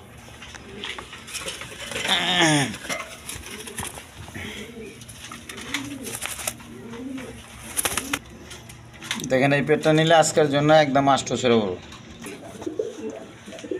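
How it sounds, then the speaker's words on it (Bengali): A pair of red Gorra pigeons coo in low, throaty rolling calls, close by, recurring through the stretch while someone talks over them in a market-style sales pitch. "এক পেয়ার কবুতর আছে, কোয়ালিটি সম্পন্ন কবুতর, গররা কবুতর, রেড কালার গররা কবুতর"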